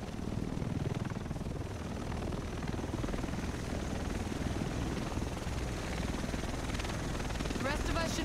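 A helicopter arriving in The Division, its steady rotor roar filling the scene continuously at a constant, fairly close level.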